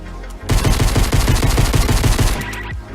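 Rapid automatic gunfire in a video game, a loud close burst of evenly spaced shots lasting about two seconds before cutting off.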